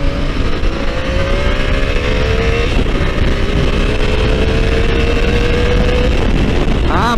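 A Kawasaki Versys 650 motorcycle with 19-inch wheels accelerates on the road, its engine note climbing steadily under loud, constant wind rush, heard close up from the rider's position.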